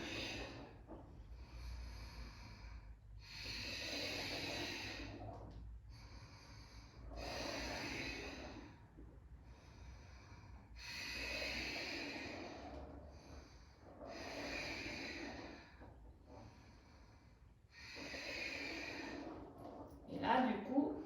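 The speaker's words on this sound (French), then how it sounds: "J'inspire, périnée, j'expire." Deep, slow breathing during prenatal yoga, long broadband inhales and exhales repeating in an even rhythm about every two to three seconds, close and steady with no talking.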